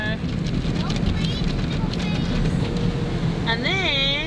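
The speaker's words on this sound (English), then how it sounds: "And more spinny brushes scrubbing our car." Spinning brushes in an automatic car wash scrub a car under a steady loud wash of water and churning machinery, with a voice rising briefly near the end.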